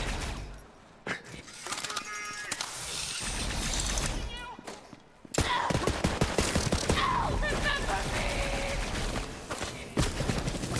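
Rapid bursts of Borderlands 3 gunfire crackle loudly in dense volleys, broken by a short lull before a heavier, sustained barrage of shots with clattering impacts.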